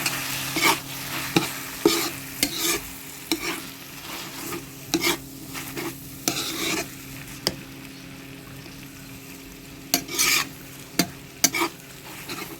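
Mango being stir-fried with dried shrimp powder in a pan: a steady sizzle runs throughout, broken by repeated sharp scraping strokes of the spatula at an irregular rhythm, close and fairly loud, with no talking.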